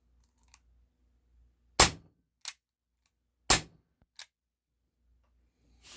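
Two sharp, loud pops from an Umarex H&K VP9 airsoft pistol at a velocity and accuracy test, each followed by a quicker, fainter click, close by and set against near silence.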